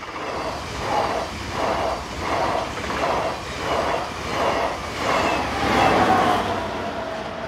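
An SNCF BB15000 electric locomotive hauls a regional train on the line to Saint-Quentin, its wheels beating a steady, loud rhythmic clatter of repeated pulses over rail joints, with a rising tonal whine near the end.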